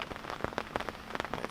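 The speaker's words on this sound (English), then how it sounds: "it definitely said it was going to rain, all day today" Rain falling at a carp fishing lake, a dense steady patter of drops striking a nearby surface, with individual taps standing out irregularly through the hiss.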